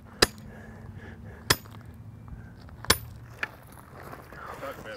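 Hammer blows driving a metal rescue picket anchor into the ground outdoors: four sharp, well-spaced metallic strikes, the last one softer, over low background noise.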